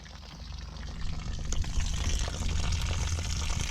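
Water drains out of the fuel tank of a 1989 Ford F250 with a 7.3 IDI diesel, a faint steady trickle and splash that grows a little fuller partway through, with no voices.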